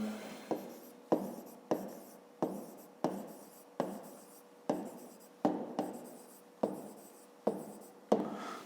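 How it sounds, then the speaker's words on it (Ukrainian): Handwriting in a fifth-grade math lesson, a pen scratching out dimensions of a rectangular box: about eleven evenly spaced strokes, each a sharp onset fading into a scratchy tail, close and clear with no talk. "Пишемо в дужках чого? Сантиметрів."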